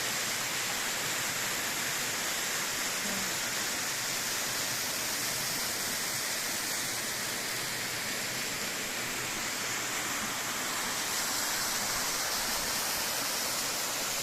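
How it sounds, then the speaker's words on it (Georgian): Waterfall in the Kavtura gorge, a steady full roar of falling water close by, broadband and unbroken throughout with no voices over it. "აი ესეთი სილამაზე ესეთი ჩანჩერი"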